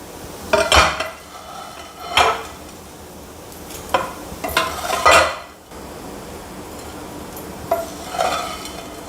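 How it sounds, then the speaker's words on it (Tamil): Raw banana fry (vazhakkai varuval) tipped from a pan into a bowl: a few separate scraping clatters of a spoon on metal cookware, each loud and brief, with quiet gaps between. "இப்போது பவுலில் கொட்டிட்டு டேஸ்ட் பண்ணி பார்க்கலாம்"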